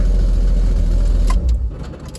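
A Chevrolet Nova with a freshly installed fuel system runs loud and close, a steady low engine rumble that dips slightly near the end.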